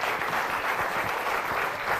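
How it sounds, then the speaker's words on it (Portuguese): A studio audience claps steadily for a pediatrician guest, a brief, moderately loud round of applause without voices. "Um aplauso para o nosso pediatra"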